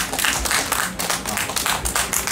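An audience at a rock festival talk session claps in a dense, continuous patter of many hands. The applause is loud and fairly steady, with no speech over it.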